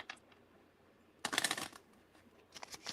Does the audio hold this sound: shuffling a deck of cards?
yes